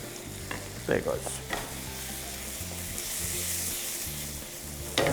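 Green and black olives, halved, sizzle over high heat in a pan for veg fried rice, a steady broadband fry with a few brief stirring clatters, close and without talk.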